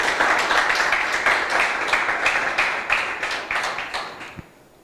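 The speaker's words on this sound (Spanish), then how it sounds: "dele un fuerte aplauso al Señor" A church congregation applauds loudly and steadily for several seconds, the clapping dense and close, then thins and fades, with a single knock near the end.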